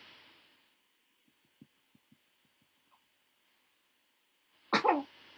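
A single sharp sneeze close by, coming after a few faint clicks and taps and a low background hum that cuts out.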